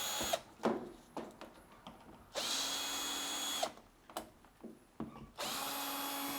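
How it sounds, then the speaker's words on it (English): A power drill backs screws out of a Fisher Paykel clothes dryer, with close whirring bursts of about a second each separated by short clicks and handling knocks, the motor starting and stopping repeatedly. "So we're going to remove those screws."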